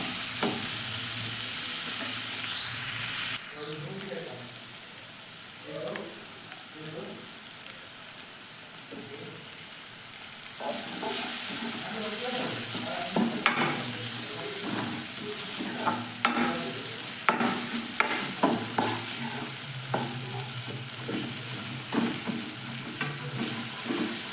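Finely chopped tomato and onion roasting in a pan over full gas, a constant sizzle broken by repeated spatula scrapes and stirring knocks that grow busier and louder midway.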